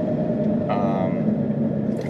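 A 2007 Hyundai Tiburon GT with a 4-speed automatic slows under engine braking, giving a steady low rumble from the drivetrain with a brief brighter whine partway through, heard close from inside the cabin.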